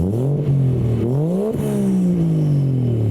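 A car engine said to resemble a six-cylinder turbo revs repeatedly, with sweeping harmonics rising and falling as the throttle is blipped several times, loud and close with no talk.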